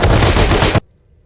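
Dense automatic gunfire in the survival game Rust during a fight with guards, a loud, rapid burst of shots that stops abruptly into near silence.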